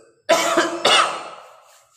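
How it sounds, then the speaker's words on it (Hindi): Two sharp, loud coughs from a man close by, one after another with a short gap between them, then a quiet tail. Nobody speaks. "खांसी हो गई"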